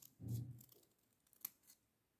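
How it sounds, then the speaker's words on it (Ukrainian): Scissors cut through folded paper along a drawn outline while making paper tulips, a few soft close snips and crisp rustles, very quiet with no talk. "Беру ножиці і вирізую по контуру, який намалювала зраніше, склавши аркуш паперу"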